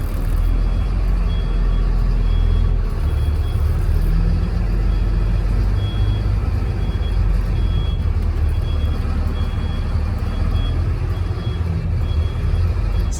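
A 2004 Thomas FS65 school bus reverses with a loud, steady diesel rumble, and a faint reversing beep repeats in the background throughout.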